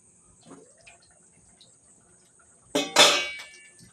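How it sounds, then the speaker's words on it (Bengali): A metal lid lifts off a cooking pan holding simmering lote fish curry with a sharp clang and a second clink right after, followed by a short ringing decay in an otherwise quiet kitchen. "এবার আমি ঢাকাটা খুলে দেব।"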